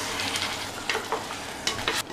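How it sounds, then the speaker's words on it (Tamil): Eggplant is stirred and sautéed in a pan for a chickpea curry. Oil sizzles steadily, and a spoon scrapes and stirs in several distinct strokes, close and alone. "கத்திரிக்காயை வதக்கிட்டு அதுக்கப்புறமா வேக வைத்த சுண்டலை இந்த தண்ணியோடையே சேர்த்துடலாம்"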